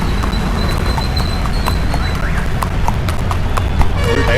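Horse hooves clip-clopping at a steady trot during a ride in Davanagere, Karnataka, close and loud with a regular rhythm over constant background noise, with a brief whinny-like sound and no talk.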